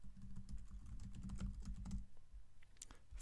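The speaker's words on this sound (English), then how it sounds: "I'm going to go ahead and type" Brisk typing on a computer keyboard while entering a website address in a WordPress dashboard, a steady run of close, dense key clicks that thins out to a few scattered taps near the end, with no voices.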